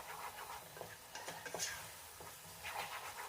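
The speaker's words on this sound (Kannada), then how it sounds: "ಈಗ ಇದನ್ನೆಲ್ಲ ಚೆನ್ನಾಗಿ ಫ್ರೈ ಮಾಡ್ಕೊಳ್ತಾ ಇದ್ದೀನಿ." Egg masala for an egg gravy fries in a pan over a low gas flame, a soft, close sizzle broken by scraping and stirring clicks of a utensil against the pan.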